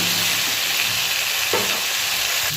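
Vegetables sizzle steadily in a hot pan, a loud continuous frying hiss with a brief stir near the middle.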